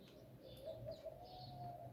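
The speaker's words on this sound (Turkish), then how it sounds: "Neyse kuş sesleri tamam mı?" Pigeons or doves coo softly beside faint bird chirps, a quiet low murmur with a few short high calls on top, no voices.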